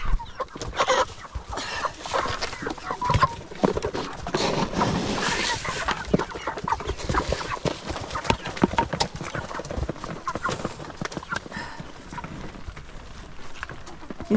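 Chickens cluck and scuffle close by at an evening feeding, a dense, busy stream of pecking, scratching and soft clucks that runs throughout, with a voice occasionally talking underneath.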